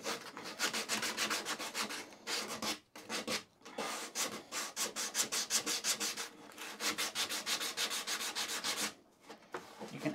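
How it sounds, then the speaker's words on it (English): Wood being sanded by hand with sandpaper while building a removable car seat dog bed, a steady run of rhythmic back-and-forth rasping strokes, close and distinct, with a few short pauses between bursts. "finish it off with the sandpaper"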